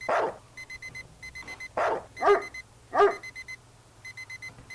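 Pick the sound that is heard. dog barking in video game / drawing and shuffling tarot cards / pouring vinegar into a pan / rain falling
dog barking in video game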